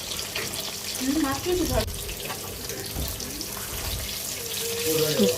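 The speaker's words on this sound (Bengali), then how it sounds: "তো সবার আগে ঝাটকা মাছটা ভেজে নিব" Young hilsa (jatka) fish coated with turmeric and chili hisses steadily as it fries in a pan, a dense, even crackle running throughout while a voice murmurs faintly in the background.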